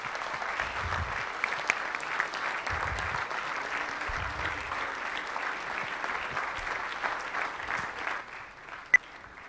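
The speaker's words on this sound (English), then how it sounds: "we need to give a standing applause to Mike Porter" A conference audience gives a standing ovation at a prize event, sustained, even clapping from a large crowd filling nearly ten seconds, with a few low thumps underneath and a sharp click near the end.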